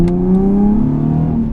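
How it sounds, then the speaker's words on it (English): A Nissan 370Z engine drones steadily and close while driving on back roads, a smooth, even hum with a faint rise in pitch and no talking. "And just the sound of that engine"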